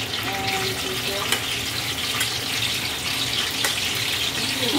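Garlic and ginger fry in a bit of oil in a pan, giving a steady, close sizzle with brief clinks of utensils and some faint tap-water noise, and no talking.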